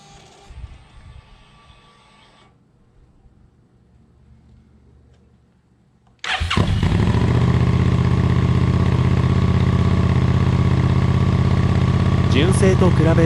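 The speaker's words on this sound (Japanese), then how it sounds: "それではエンジンかけてみます。" A Suzuki SV650 fitted with an LCIPARTS GP stainless slip-on muffler cranks after a quiet stretch of faint background noise, then settles into a loud, close, steady idle that holds to the end.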